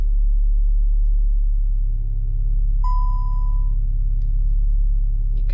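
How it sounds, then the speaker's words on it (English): A VW Mk7 Golf R sits idling in race mode with traction control off, giving a steady low, loud engine rumble throughout, broken by a brief electronic tone partway through. "You head and you put it into race mode. Makes a good noise."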